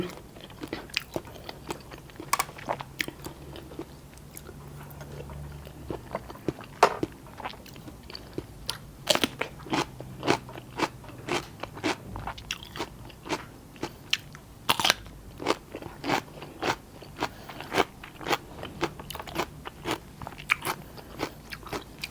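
Close-up chewing of rice with shelled shrimp and rich shrimp fat, with steady crunchy bites and wet mastication repeating throughout, loud and intimate with no talking.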